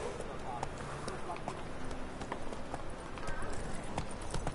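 A horse gallops in the video game The Witcher 3, its hooves clip-clopping in a quick steady rhythm at moderate loudness, with a voice speaking over it.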